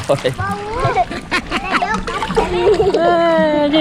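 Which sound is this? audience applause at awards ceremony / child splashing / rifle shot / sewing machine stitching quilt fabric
child splashing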